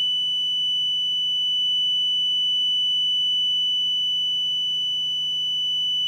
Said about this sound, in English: If the horn is on continuously like this,